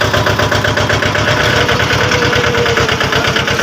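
A tractor engine runs close by at a steady idle, with a loud, even, rhythmic chugging throughout and no talking.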